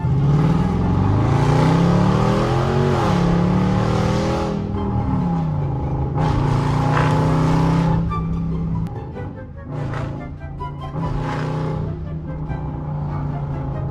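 A straight-piped Dodge Durango R/T V8 accelerating from inside the cabin, loud rising engine roar through several gear pulls with brief dips between, continuous and close throughout.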